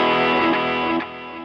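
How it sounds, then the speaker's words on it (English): A gritty electric guitar chord through a medium-gain overdrive rings out loudly and sustains, with a second strum before it settles and fades slightly. "I also have a medium gain overdrive that I'll have on the whole time"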